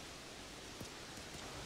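Rain falls on a golf course in the video game Everybody's Golf as a steady, even hiss with a few faint soft taps and no voices.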